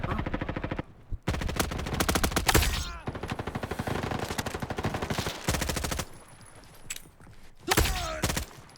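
Video game gunfire crackles in rapid automatic bursts separated by short pauses, loud and sharp, with some louder single shots mixed in.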